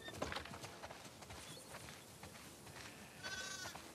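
Sheep in a flock on a farm in The Last of Us Part II bleat several times, faint and somewhat distant, with soft hoof steps and outdoor ambience and no talking.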